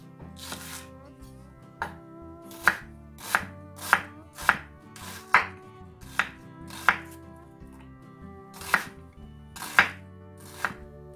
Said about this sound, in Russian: Лук нарезаю четверть кольцами.